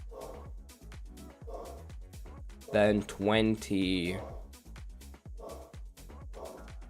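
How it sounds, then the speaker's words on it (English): A pet dog barking in a room near a microphone, several loud close barks bunched in the middle, under someone talking before and after. "my dog is barking and the mic is picking everything up"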